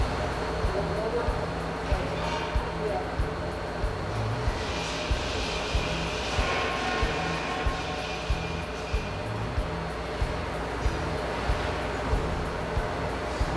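A forklift lifts and lowers a cattle chute, its engine giving a steady, moderately distant droning rumble with faint regular knocking throughout.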